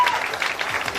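A seated hall audience at a business motivational meeting claps together in a brief, dense burst. It lasts about a second and stays fairly close and loud.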